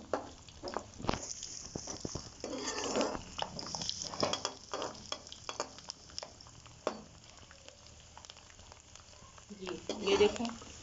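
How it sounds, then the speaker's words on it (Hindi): Raisins sizzle and fry in a pan for jaggery rice, a steady crackling hiss broken by scraping stirs and occasional knocks, fairly close and moderately loud throughout. "फ्राई करेंगे ताकि जो हमारे किशमिश हैं वो फूल जाएं"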